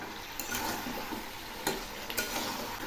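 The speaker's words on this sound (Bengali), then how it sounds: "আবার একটু নেড়ে দিচ্ছি।" Flat beans and lentil dumplings (bori) fry softly in a pan, a low, steady sizzle with a few light scrapes and clinks of a spoon stirring, faint and close, with no talk.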